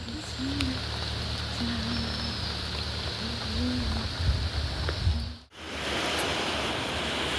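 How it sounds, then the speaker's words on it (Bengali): Rain falls steadily outside as a dense, even hiss with faint patters, continuous throughout apart from a brief cut near the end, no talking. "বাইরে বৃষ্টি শুরু হয়ে গেছে"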